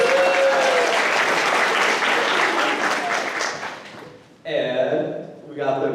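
A student event audience applauds the faculty with loud, sustained clapping and cheering that fills the room, then fades out before a voice on a microphone begins speaking.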